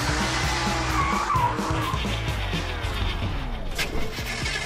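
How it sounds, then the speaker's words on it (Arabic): A toy race car speeds and skids, with continuous whirring motor noise and squealing tire sounds sweeping up and down, loud and close throughout with no talking. "انظر إلى هذه السيارة السريعة."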